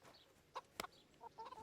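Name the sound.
chickens clucking in video game Kingdom Come Deliverance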